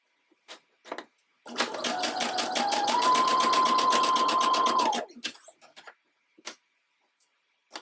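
A domestic sewing machine runs a zigzag stitch through lace while making a thong, giving a steady, close mechanical whir of about four seconds that rises slightly in pitch, framed by soft clicks and taps before and after.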